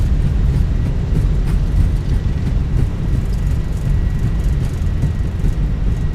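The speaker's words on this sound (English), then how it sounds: "Goes down gently. Reversers are out." Thrust reversers on an Airbus A319 landing at Key West in a flight simulator, a loud, continuous low engine roar that holds steady throughout.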